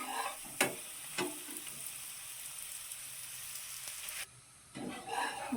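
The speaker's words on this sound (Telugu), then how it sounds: "ఇప్పుడైతే ఆయిల్ వేసుకున్నా, తిప్పాలి." Food frying in hot oil on a pan, a steady sizzle throughout with a few sharp scrapes as it is turned, briefly dropping quieter near the end before the sizzle resumes.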